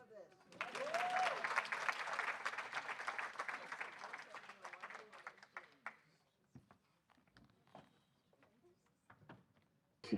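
An audience applauds at a UN General Assembly side event on closing the gender gap. The clapping is dense and loud at first, then thins into scattered claps that trail off over about ten seconds.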